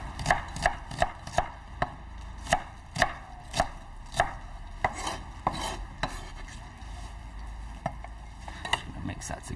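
A red onion is chopped with a knife on a board: about fifteen crisp, close strikes fall in an uneven but steady rhythm over a soft background hiss.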